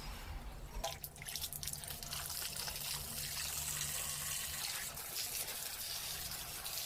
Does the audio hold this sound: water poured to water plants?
yes